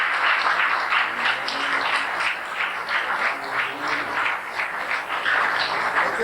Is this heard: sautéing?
no